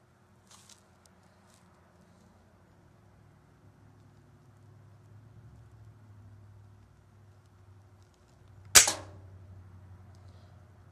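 A single sharp crack from a pellet gun rings out once, loud and close, standing alone against a low rumbling background hum.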